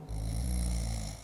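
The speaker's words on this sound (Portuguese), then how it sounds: "Em que período nós ouvimos o som do ronco?" A person snoring in one long, steady, droning breath, fairly close and clear with no voices.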